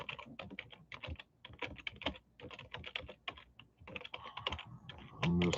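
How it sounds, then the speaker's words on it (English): Someone types steadily on a computer keyboard, a fast, irregular patter of close key clicks with brief pauses and a louder thump at the end. "I'm just typing."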